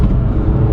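Abarth 500 with a stage 1 tune pulling hard in third gear in sport mode, a steady, loud low engine rumble throughout with no talk over it.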